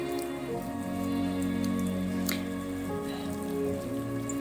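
Rain falls steadily during a mountain hike, a continuous even patter of drops on surfaces with occasional close drips, and no talk.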